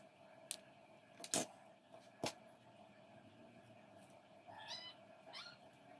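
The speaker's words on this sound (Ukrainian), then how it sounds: "Не звертайте увагу на звуки. Тут у нас котики казяться." Cats meowing and yowling in short bursts while playing, with a few sharp clicks and knocks in an otherwise quiet room.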